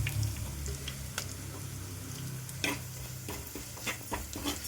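Turmeric and other spice powders roast and sizzle in a pan for curry, a soft steady hiss broken by sharp scrapes and clinks of stirring.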